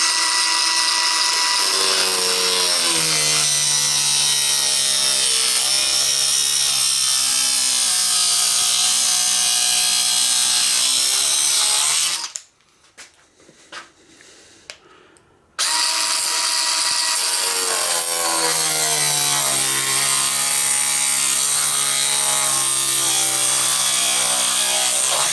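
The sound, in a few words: Bosch Easy Cut&Grind cutting material held in a jig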